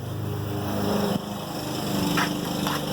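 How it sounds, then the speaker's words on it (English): A neighbor's lawn mower drones steadily from a short distance away, a continuous buzzing engine hum with slight swells, heard alone without talking. "My neighbor decided to mow his lawn."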